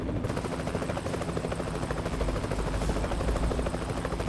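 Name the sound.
helicopter in the video game American Truck Simulator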